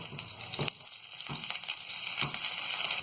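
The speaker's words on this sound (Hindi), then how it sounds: "राई और जीरा जब थोड़ा सा तड़क जाए तो अब हरी मिर्च और करी पत्ता" Mustard seeds, cumin, green chilli and curry leaves sizzle in hot oil in a pan for a fasting-style potato vada, a steady crackling fry with sharp pops and a few stirring scrapes, close and continuous.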